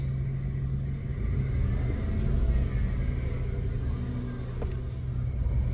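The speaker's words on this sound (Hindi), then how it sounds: "चलो जी गाड़ी रिवर्स कर लें।" A car's engine idles and rumbles steadily while the car is reversed out, a low, even drone close by that swells slightly partway through. No one speaks over it.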